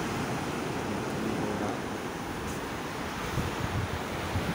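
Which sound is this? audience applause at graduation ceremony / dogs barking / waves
waves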